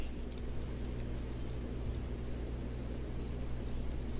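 Crickets chirp in a constant high-pitched drone over a low, steady ambient hum, with no voices, from the game theHunter: Call of the Wild.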